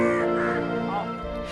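Crows cawing at Budha Talab pond in Raipur, giving a few loud, close, harsh caws in quick succession over a brief moment.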